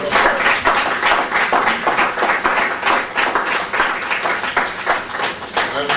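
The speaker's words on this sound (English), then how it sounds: "give them a rousing round of applause" Applause from the gallery at a junior councillors' meeting of a municipal council, a dense wash of clapping for young participants with voices mixed in and the loudness rising and dipping.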